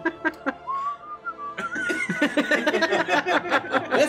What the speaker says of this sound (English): And I'm whistling as I work.